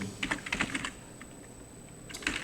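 Typing on a computer keyboard: a quick run of clicking keystrokes, then a pause and another short burst near the end, close and fairly quiet with no talking.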